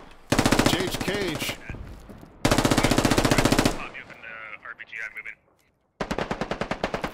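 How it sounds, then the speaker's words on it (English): Bursts of automatic gunfire in the SquadOps video game, two long rapid volleys and a later short burst, close and loud, separated by quieter gaps with a brief voice in between. "Dorf taking shots now."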